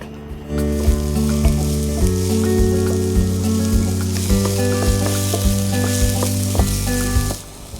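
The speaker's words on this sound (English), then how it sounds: "And we have a red onion, also cut in very thin small pieces, also added to the pan." Thinly sliced red onion frying in a pan, a loud close crackling sizzle that starts abruptly and holds steady for several seconds with light stirring knocks, then cuts off, no talk.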